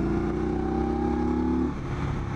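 An Indian Scout Sixty motorcycle with a 999cc engine accelerates, its steady engine drone rising in pitch before easing off, loud and close with no talk.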